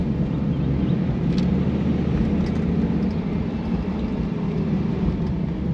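A vehicle engine drones at full throttle, a loud, steady low rumble that holds close throughout with no clear break for a gear change.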